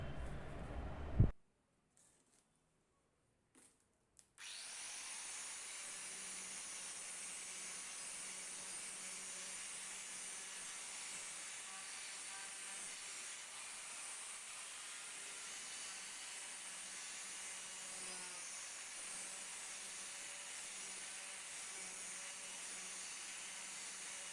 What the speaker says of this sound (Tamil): இப்போ அடுத்து இந்த கிரைண்டிங் வீல் வந்து உட்டில் எந்த அளவுக்கு கிரைண்டிங் பண்ண முடியும் அப்படிங்கிறத இப்போ நம்ம பார்த்துருவோம்